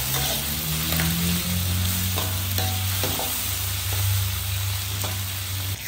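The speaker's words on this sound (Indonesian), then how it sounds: "Sekarang kita goreng ikan." Fish fries in a pan with a steady, loud sizzle and crackle, broken by occasional clinks and stirring scrapes, with a low hum running underneath.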